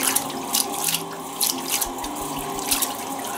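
A toothy fish being rinsed under a running tap, with a steady close stream of water splashing over it and periodic louder bursts of splashing and handling, with no one talking.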